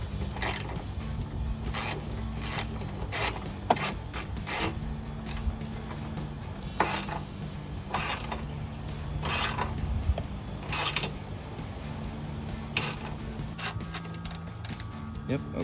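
Screws on a strut tower brace in a 2015-2023 V8 HEMI Dodge Charger are gently tightened with a ratchet, giving close, irregular clicks and creaks over a steady low hum.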